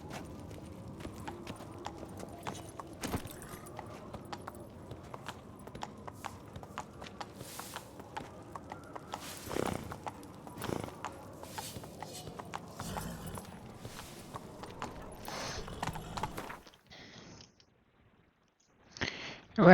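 Horse hooves clip-clop in The Witcher 3, a steady rhythmic trot of close, crisp hoof beats with a few louder knocks, running continuously before fading into near silence at the end.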